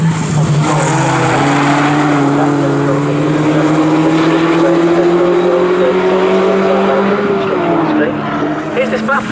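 Mazda race cars battle wheel to wheel at Snetterton circuit, their engines loud and close, with the pitch rising steadily as they accelerate and dropping at a gear change, all under continuous race commentary.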